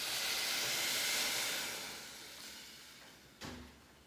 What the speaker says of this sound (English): I'm just going to let that rice cook in that oil for a couple of minutes